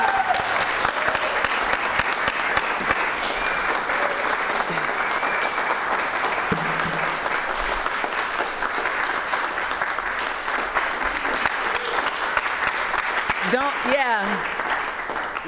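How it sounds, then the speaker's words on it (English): Audience applause fills the room with sustained, dense clapping at steady loudness, lasting well over ten seconds as a crowd applauds after a recitation at a suffragist commemoration event. "all your clapping is to the prolific Mary Church Terrell"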